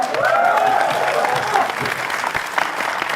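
Sustained audience applause at a comedy roast show, a dense wash of clapping hands that runs throughout, with cheering and a host's voice riding on top.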